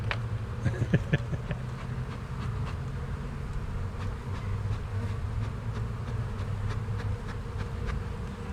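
Honey bees hum densely around a hive packed full of bees during a spring split, a constant low drone close by with faint clicks and handling noises.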